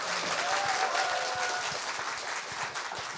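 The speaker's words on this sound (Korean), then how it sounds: "다시 한번 큰 박수 부탁드릴게요." A live audience at a public broadcast of a Korean news talk show claps in a full, continuous burst of applause that holds steady throughout, with a faint voice briefly audible beneath it.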